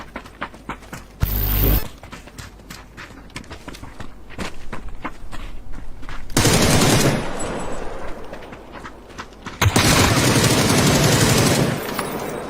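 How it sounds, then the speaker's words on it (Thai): Bursts of gunfire inside a house in the battle-royale game PUBG, short loud volleys separated by quieter stretches of footsteps and movement, with no talking. "ยิงไม่โดนหัวมันเลย ยิงโดนเกาะมันข้างในบ้านในบ้าน"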